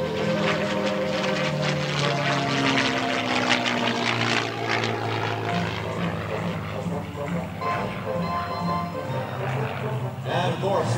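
A CAF P-51D Mustang flies at an air show in Tuscaloosa with a loud, rising and falling propeller-engine roar as it passes. An announcer talks over the engine noise.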